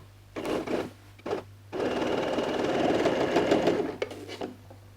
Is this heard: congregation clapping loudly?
no